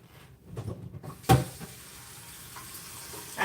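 Tap water running briefly in a kitchen sink while raw burger meat is rinsed, a soft steady splash with one sharper burst of flow, faint and close.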